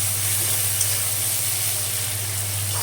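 Onions frying in a pan while making dana moong tadka give off a steady, even sizzle with a soft hiss that holds at the same level throughout, with no talking over it.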